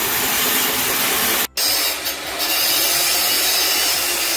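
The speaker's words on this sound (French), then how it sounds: "Là, on appelle ça le débit à la scie à ruban." Continuous hiss and whine of a band saw cutting through wood for a spinning wheel in a Madagascar workshop, loud and steady, with a brief dropout partway through.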